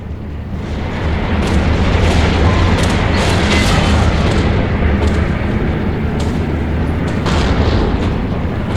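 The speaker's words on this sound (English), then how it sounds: "Also doing a heavy bomb run." A heavy bomber's bomb run in the Steel Division video game: a loud, continuous barrage of rumbling explosions with sharper bursts scattered through it, no voices heard.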